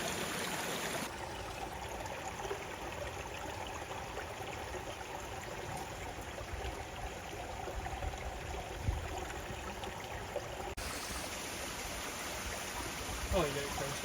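A small waterfall pours into a flowing creek, making a steady, broad rushing wash that continues evenly throughout the clip with no clear breaks.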